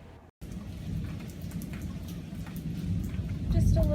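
Steady rain falls on a garden patio of potted vegetables and a sweet potato vine during a summer thunderstorm, with low thunder rumbling underneath and building louder toward the end after a brief cutout near the start.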